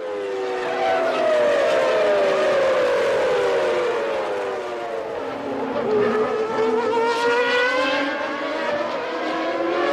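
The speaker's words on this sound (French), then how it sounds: "Dans la ligne droite opposée, Ayrton Senna menace son équipier et prend l'avantage au 6e virage" Formula 1 cars of 1993 race at the Portuguese Grand Prix, their high screaming V10 and V12 engines sweeping up and down in pitch as several pass in close succession, loud and continuous.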